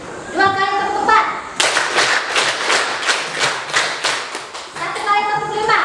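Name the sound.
class clapping a 'tepuk 4' clap pattern twice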